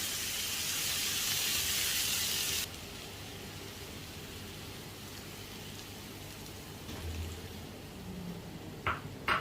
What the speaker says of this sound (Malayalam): ഇതിലേക്ക് ഞാൻ വെള്ളം ഒഴിച്ചു കൊടുക്കുകയാണ്.